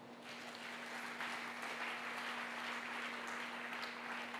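A church congregation breaks into steady applause at a sermon, a dense wash of clapping with a faint hum beneath, sustained evenly throughout.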